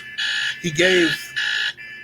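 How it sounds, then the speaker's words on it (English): A phone alarm clock goes off in repeating loud electronic beeping bursts, with a brief voice talking over the middle of the pattern. "It's my alarm clock, so my phone's going off."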